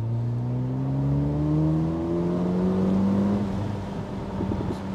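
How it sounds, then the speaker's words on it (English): A 2023 Mercedes-AMG SL43 with a four-cylinder engine accelerates hard at full throttle, its loud, steady engine tone rising in pitch through the pull and joined late by faint crackles. "let's now give it full throttle and see how it is"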